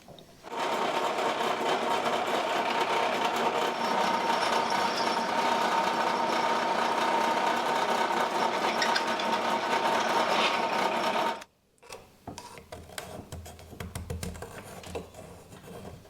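A machine tool cuts two circlip grooves into a billet brake pedal, a loud, steady high whine running for about eleven seconds. It then stops abruptly, leaving lighter clinks and handling noises.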